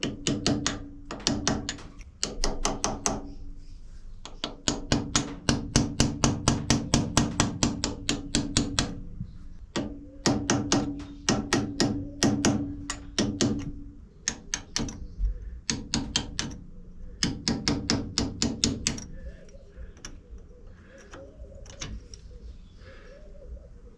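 A carbide scribe taps lightly on a stripped compound nut of a Maximat Standard lathe, giving rapid sharp metallic clicks in quick bursts and pauses, close and distinct with no talking.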